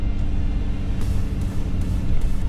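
A vehicle towing a trailer rumbles along a rough road in Arizona, a loud, steady low drone with broadband road noise and occasional rattles throughout, no talking.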